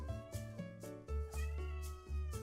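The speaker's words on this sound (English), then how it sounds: "My cat is apparently really upset about making shapes." A pet cat meows repeatedly in an upset, complaining tone, a run of close, loud drawn-out cries with short pauses between them and no talk.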